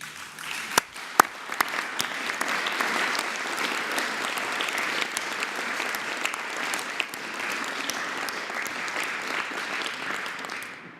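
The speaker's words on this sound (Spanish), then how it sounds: "vamos a aplaudirle a las niñas y a los niños." An audience applauds children at a live morning press conference in Mexico, a steady burst of clapping that holds evenly for about ten seconds before tapering off.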